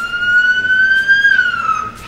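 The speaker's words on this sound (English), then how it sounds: "If you see sirens in emergency vehicles near the Iowa City Airport this week, don't be alarmed." A loud, near emergency vehicle siren sounds near an airport during a disaster drill, a steady sustained wail with its pitch slowly rising and falling, with faint road noise underneath.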